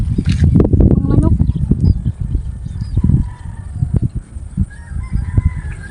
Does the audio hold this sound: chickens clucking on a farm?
yes